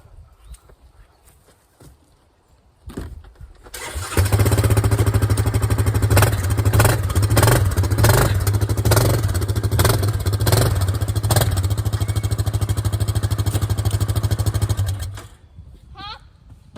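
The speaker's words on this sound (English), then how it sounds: "I'm gonna scoot the four-wheeler up some." Four-wheeler ATV engine starting up with a few cranking bursts, then running steadily with a loud close rumbling drone as it is moved, before cutting off with outdoor quiet and a bird chirp after.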